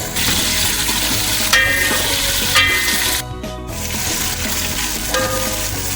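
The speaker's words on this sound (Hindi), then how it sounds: "गोश्त हमारा जो है भुन रहा है" Mutton sizzles steadily in a hot pan with fried onions, a constant close crackling fry with occasional stirring scrapes and clinks.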